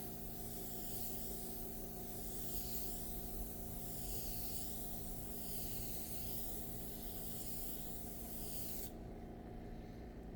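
Kandy paint sprays from a spray gun onto a Mooneyes moon disc, a steady continuous hiss that swells and eases in slow passes before dropping away near the end.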